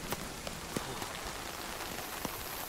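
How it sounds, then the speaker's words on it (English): Hail falls in the survival video game Nightingale as a quiet, continuous patter of dense ticks and taps, with a few sharper hits standing out. "It's hailing."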